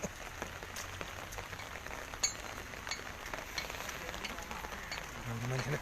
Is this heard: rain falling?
yes